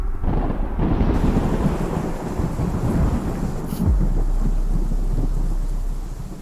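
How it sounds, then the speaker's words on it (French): Rolling thunder with steady heavy rain pattering against window glass, a dense continuous wash of rainfall and a louder rumble midway, no voices present. "La pluie tombe dehors et tombe sur les vitres. Il y a peut-être même de l'orage."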